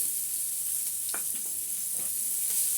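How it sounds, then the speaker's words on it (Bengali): Chopped onion frying in oil in a pan, a steady soft sizzle running throughout with a few faint stirring scrapes, close and moderately quiet, with no voices. "পেঁয়াজটা হালকা একটু ভেজে নিচ্ছি"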